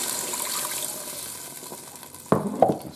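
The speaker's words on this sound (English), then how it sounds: "it says to put 1/4 cup of water in there" A quarter cup of water hits a hot pan during home cooking and gives a broad hiss and sizzle that slowly fades, then a couple of sharp clatters near the end, close by with no talk.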